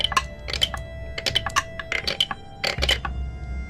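A handful of dice tumble through a tabletop dice tower into its tray, making rapid bursts of sharp clicks and clatters that come in several close clusters and then settle, nearby and alone.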